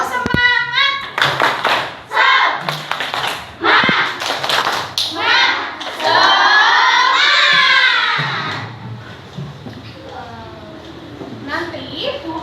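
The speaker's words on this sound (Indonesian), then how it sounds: "Tepuk semangat" Schoolchildren in a classroom doing a spirit clap, loud rhythmic bursts of hand clapping broken by shouted chanting voices, close and energetic over about twelve seconds.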